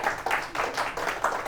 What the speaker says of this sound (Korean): 그 청년을 위해서 박수 한번 보내요.